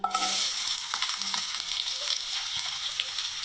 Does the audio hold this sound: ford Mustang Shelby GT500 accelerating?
no